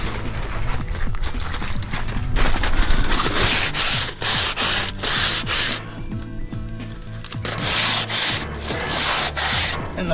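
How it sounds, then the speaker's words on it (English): Balled-up aluminum foil scrubs back and forth across a dirty camp grill, producing a rhythmic series of close, loud scratchy strokes in steady repeated bursts with no talk. "the foil serves as a abrasive to clean your grill"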